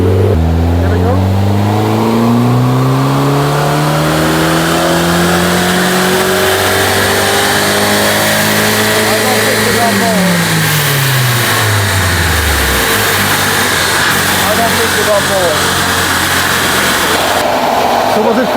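A turbocharged 1.4 Alfa Romeo Mito Abarth engine revs hard through a full pull with a colder air intake, loud and close. The pitch climbs steadily, drops at a shift, then climbs again, with a constant roar throughout.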